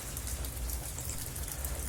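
Steady rain falls outdoors where potted plants have been set out to catch it, a dense, even hiss of drops on surfaces with no voices, continuous and close throughout.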